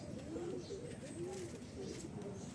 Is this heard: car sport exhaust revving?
no